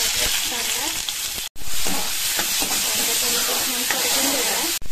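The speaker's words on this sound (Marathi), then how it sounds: "कांदा टोमॅटो परतला" Onion and tomato sautéing in a hot kadhai, giving a loud, dense, continuous sizzle and hiss close by, with spatula stirs breaking through and a brief gap in the sound.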